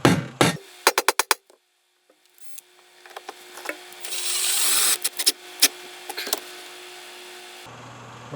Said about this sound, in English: Now I'm just going to secure it down with some exterior deck screws